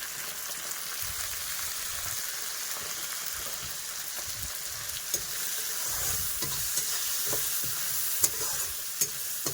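Masala of onion, tomato, salt and turmeric sizzles steadily in a pan while a spoon stirs it, with occasional sharper scraping clicks over the continuous frying hiss.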